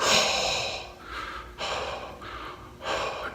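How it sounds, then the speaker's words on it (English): Controlled breathing during a boot-camp style workout: four slow, deliberate breath cycles of strong airy inhales and exhales, close and fairly loud, in a steady rhythm with no talking. "Put your breathing in sync with the motions."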